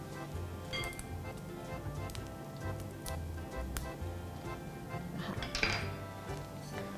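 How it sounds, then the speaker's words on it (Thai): Salad ingredients, including spring onion, celery leaves and holy basil, are tossed together in a bowl, giving soft, faint clinks and scrapes of utensils over a quiet steady background. "แล้วเราก็คลุกส่วนผสมทุกอย่างเข้าด้วยกันนะคะ คลุกเคล้าให้เข้ากันนะคะ"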